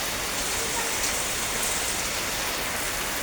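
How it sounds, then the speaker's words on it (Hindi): Heavy rain pours steadily on a home's surroundings, a dense, constant hiss of downpour close by with no break, filling the whole stretch without any voices. "अब भी बारिश तेज़ी से हो रही है भाई"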